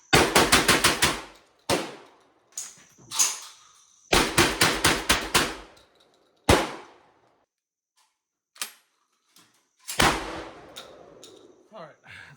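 A Panzer Arms shotgun fires low brass shells in rapid strings of sharp, loud blasts, then single shots with pauses, working through a box during a heated torture test outdoors.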